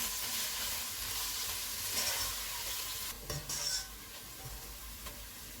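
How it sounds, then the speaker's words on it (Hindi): Two onions fry in a third of a cup of hot oil, sizzling steadily and close up, with a few stirring scrapes and clinks of a spoon against the pan partway through. "इनको गोल्डन ब्राउन फ्राई करेंगे।"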